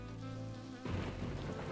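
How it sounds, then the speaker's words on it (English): Rain in the video game Blackwell Convergence starts up abruptly partway through, a dense low rumbling patter with a thundery undertone, following a sustained tonal musical passage, with no voices. "Is it just me, or does it sound like it's raining?"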